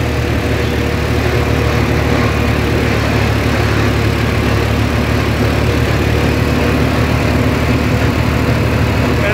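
A John Deere 5405 GearPro tractor engine hauls a load of 8000 bricks, a steady loud diesel drone with constant low rumble throughout, no talk.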